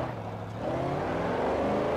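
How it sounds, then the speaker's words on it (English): A car engine in Forza Horizon revs up, its pitch climbing steadily into a loud, sustained roar. "Yo, this car sounds sick. Listen to it."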